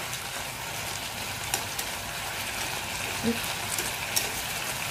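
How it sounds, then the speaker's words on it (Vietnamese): Onion stir-fried with tofu and pickled mustard greens in a pan makes a steady, even sizzle with soft scraping and a couple of faint clinks of the utensil, moderately quiet and close. "Cuối cùng thì chúng ta sẽ cho hành tây vô các bạn, chúng ta xào sơ ha"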